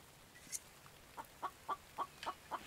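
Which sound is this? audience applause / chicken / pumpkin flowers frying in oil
chicken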